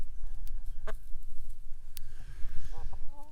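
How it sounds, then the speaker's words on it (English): Chickens cluck and squawk intermittently over a low rumbling background, with a few short bird calls scattered throughout. "Well, hello chickens."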